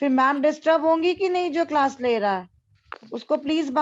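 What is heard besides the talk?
No distinct noise like a dog, phone or traffic.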